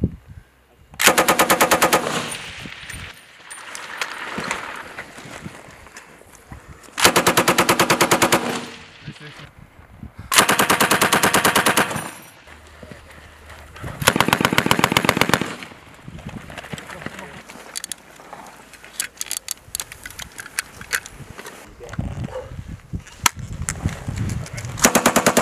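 Several long bursts of rapid automatic machine-gun fire ring out during an infantry support-by-fire live-fire exercise, each burst lasting about two seconds and loud, separated by quieter stretches with scattered distant shots and faint voices.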